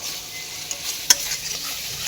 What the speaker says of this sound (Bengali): দিয়ে এটা মশলাটাকে কষে নিচ্ছি